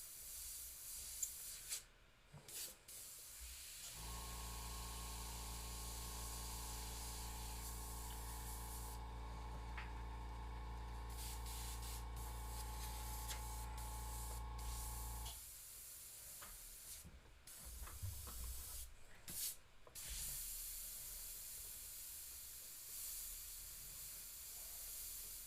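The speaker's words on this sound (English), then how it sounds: "And I'm going to airbrush some of these wrinkles." Airbrush spraying paint, a steady, even hiss lasting about ten seconds between quieter stretches of small handling noises and short bursts of air.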